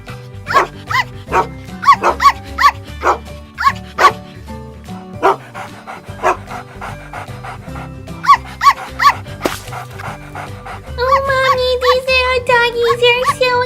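Puppies yip and bark in short, repeated bursts at a playground park, layered over steady music, with a denser stretch of high barking near the end.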